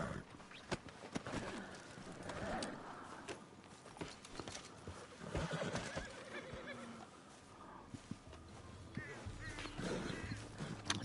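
Horses in the video game Red Dead Redemption 2 whinny and neigh amid clip-clopping hooves and faint birdsong, with a louder neigh partway through over steady outdoor ambience.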